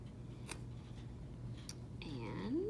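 Scissors cutting a folded pipe cleaner into pieces for craft legs: a couple of quick, crisp snips, fairly close, followed by a brief rising squeak at the end.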